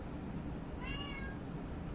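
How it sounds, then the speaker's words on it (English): A cat meows once in the middle of a quiet indoor room, a short rising-and-falling call set against low background noise. "Just take in her meows."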